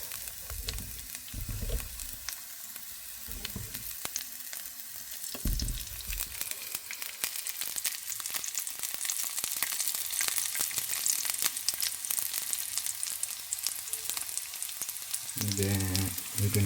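Garlic sautéing in a pan for a Filipino coconut chicken and squash dish; a bright, crackling sizzle builds and stays loud, broken by low scraping and stirring thumps at the start and near the end.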